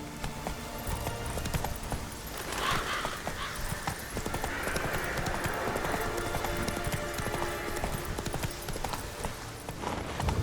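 Hooves of Roach, Geralt's horse in The Witcher 3: Wild Hunt, clip-clop steadily throughout at a riding pace, with a short whinny and game ambience behind them.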